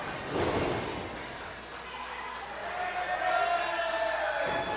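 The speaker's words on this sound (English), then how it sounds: "The crowd approves." Wrestling crowd at an independent show cheering and roaring after a big move in the ring, a broad swell of voices that rises, dips and surges again, with a few thuds beneath.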